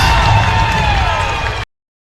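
A big, loud crowd roars and cheers at a women's college basketball game between Benedictine and Aurora, a sustained wash of voices and whoops that cuts off abruptly.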